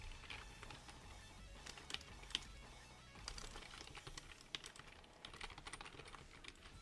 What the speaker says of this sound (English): Literally typing the word something.